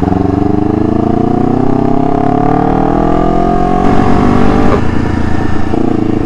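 A spectator shuttle bus at the Mandalika racing circuit, its engine droning loud and close with a steady, slowly rising pitch as it revs, a rougher rumble near the end.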